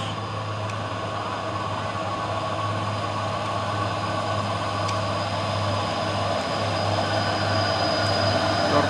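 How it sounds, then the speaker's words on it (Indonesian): Heavy trailer trucks, among them a Hino Euro 4, climb a hill road on Bukit Kodok, giving a steady, loud low engine drone that holds unbroken throughout. "Terpantau rame kendaraan yang berlewatan"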